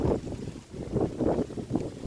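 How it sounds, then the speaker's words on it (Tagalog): Strong wind buffets the microphone in heavy, rolling gusts in the Philippine mountain countryside, with a deep roar rising and falling. "Lakas ng hangin."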